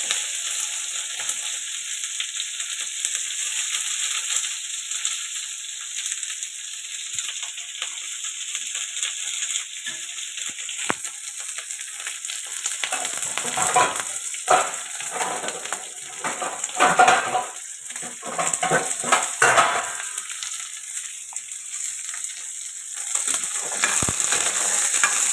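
Chopped onions and two dried red chillies fry in a pan, a steady sizzle under intermittent scraping and stirring of a spatula against metal, close and fairly loud, no talking.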